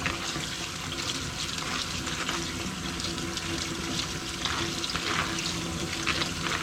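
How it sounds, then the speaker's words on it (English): Shrimp being washed under a running kitchen tap, a steady broadband rush of water over the seafood in a sink, continuous and fairly close for the whole stretch with no voices. "we're gonna wash out the shrimp here back again one time"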